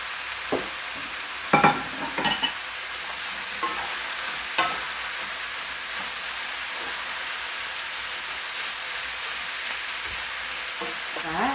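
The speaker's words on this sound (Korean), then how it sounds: "야채를 이렇게 볶아주세요" Vegetables stir-fried in a pan for Korean pork chop steak give a steady sizzling hiss throughout, with a few brief clacks and scrapes of a utensil against the pan, alone and without talk.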